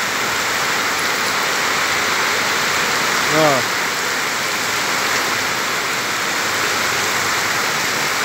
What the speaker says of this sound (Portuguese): Mais intensa a chuva tá ficando